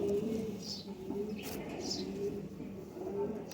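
Pigeons of a Pakistani flying breed with purple feet cooing softly in a loft, low repeated coos over faint chirps and background hum.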